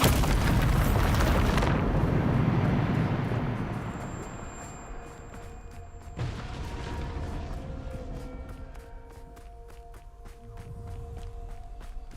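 In Hogwarts Legacy, the Bombarda blasting spell goes off with a heavy, booming explosion that rumbles and decays over several seconds, followed by quieter debris clatter and a second fainter blast near the end.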